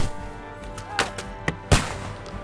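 Scattered gunshots during a battle in Kingdom Come Deliverance 2, a few separate, fairly faint pops and one louder thudding shot over a steady humming background, with no talk.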